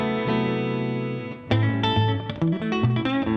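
An electric guitar with a bright, snappy tone runs through distortion, chorus and reverb effects at a live show: a sustained ringing chord, then a close run of plucked notes and chords, with no talking.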